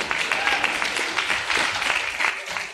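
Audience applause and clapping at a progressive political summit, a dense burst of many hands lasting a few seconds, fairly loud and close, with some voices mixed in.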